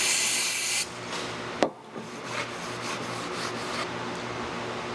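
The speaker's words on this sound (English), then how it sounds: "we're going to hit it with a shop towel a couple times, turn the rag, give it another spray" Shop towel and spray cleaner used on a clutch part from a Dodge Ram 5.9L or 6.7L G56 clutch assembly: a hissing spray burst, a sharp knock, then soft rubbing swipes of the rag, close-up.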